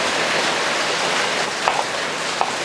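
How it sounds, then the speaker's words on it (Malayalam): Heavy rain falls outside, a loud continuous roar of water with a couple of brief clicks near the end. "ഭയങ്കര മഴ ഒരു രക്ഷമില്ല"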